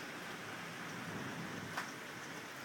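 Steady rain mixed with hail pours down in an even, dense hiss that barely changes, with one brief sharper hit near the end as the storm eases; no voices are heard.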